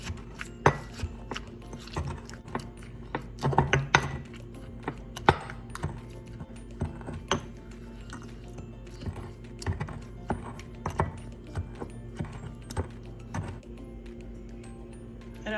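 Mango and sugar being muddled together for a mango mojito, a run of soft, irregular knocks and pressing thuds at close range, with no talking.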